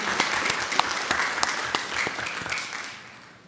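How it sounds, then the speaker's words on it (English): Audience applause at a city council meeting honoring city staff, the communications department and the mayor, a dense steady wash of many hands clapping that tapers off toward the end, with no talk over it. "I'd like to ask for a round of applause for the city staff, Quinn Conold and Communications Department"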